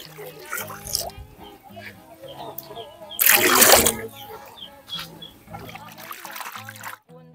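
Water poured into a pot as broth for a catfish tinola soup with okra, a brief gushing splash in the middle, with faint clatter and a voice before and after.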